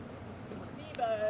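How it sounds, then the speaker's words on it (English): A blue-winged warbler sings outdoors: a thin, high, two-part buzzy note, with the second buzz slightly rougher, clear above a quiet background, followed by a brief whistled tone. "I heard a blue-winged warbler over there."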